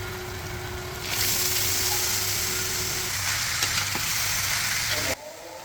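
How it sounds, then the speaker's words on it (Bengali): Chopped bottle gourd goes into hot oil with fried onion and green chili, the sizzle surging louder after the first second and holding steady before cutting off near the end. "পেঁয়াজ ও কাঁচা মরিচ হালকা ভাজা হয়ে গেলে আগেই কেটে রাখা লাউ আমি দিয়ে দিব।"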